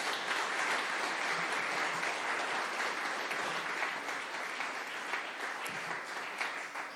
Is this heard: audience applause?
yes